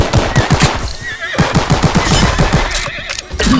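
Rapid gunfire in the video game Glory Front Line, with repeated low thuds in quick bursts that run almost continuously and loud, alongside other game sounds.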